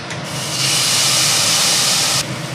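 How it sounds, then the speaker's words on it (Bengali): Green chili paste hits hot oil and erupts into a loud, steady sizzle that holds for about two seconds before cutting off abruptly, with no talking. "আমি এবার কাঁচা লঙ্কা পেস্ট দিয়ে দিচ্ছি"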